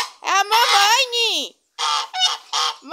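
Loud, harsh honking calls from a bird close by, a long drawn-out honk followed by a rapid series of shorter ones, no talking.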